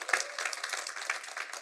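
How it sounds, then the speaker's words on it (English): Audience applause for chairman Hangi Park at an Atomy Success Academy event in Perth, a dense, steady wash of many hands clapping at moderate volume, heard alone without talk. "Let's give her a big round of applause to our chairman, Hangi Park."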